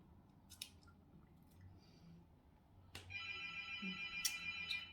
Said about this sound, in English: One second, I gotta go get the phone.